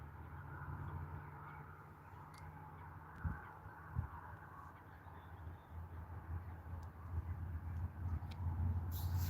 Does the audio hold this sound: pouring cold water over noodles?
no